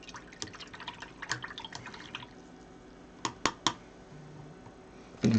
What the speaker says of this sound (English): listen to the paint water.